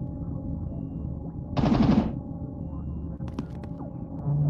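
Turret gunfire in the Tea for God VR game: one short, loud burst of rapid automatic fire over a constant low mechanical hum and rumble, followed by a few faint clicks and a brief electronic blip near the end.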